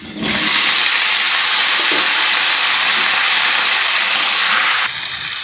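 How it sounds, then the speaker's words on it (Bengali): Potato pieces fry in hot oil for a restaurant-style chicken dish, a loud, steady, broad hiss of sizzling that starts abruptly and eases slightly near the end, with no talk. "আলুগুলি আমি একটু লাল করে ভেজে নেব এক এক করে"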